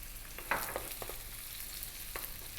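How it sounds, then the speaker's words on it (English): Onion and garlic frying in olive oil in a wok over medium heat, giving a low steady sizzle with a few short stirring scrapes and clacks, no talking. "I've got this wok on the go here. I've got some olive oil in there. In goes the onion."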